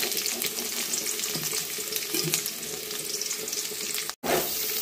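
Green chillies and chopped onions frying for coastal-style crab sukka, a loud, dense, continuous sizzle that cuts out briefly near the end.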